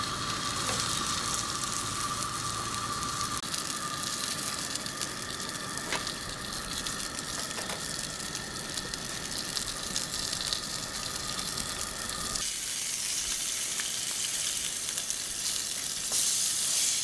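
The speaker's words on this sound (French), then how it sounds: "je vais rôtir à la poêle" Marinated lamb chops searing in a frying pan, a constant close sizzle and crackle of fat with occasional small clicks, shifting slightly in tone partway through.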